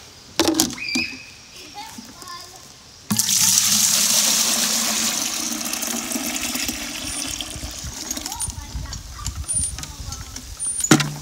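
Apple juice pours from a cider press into buckets as a steady rushing, splashing stream that starts abruptly a few seconds in and runs loud and continuous to the end, with some brief clatter at the start.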